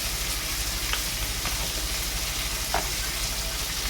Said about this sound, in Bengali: আমি শুকনো লঙ্কা ফোড়ন দিয়েছি